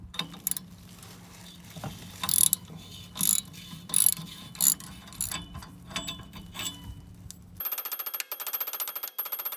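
A ratchet wrench loosens a 9/16 bolt on a pulley under a vehicle being scrapped, with bursts of clicking and metallic clanks close by, followed by a faster, steady ratcheting near the end.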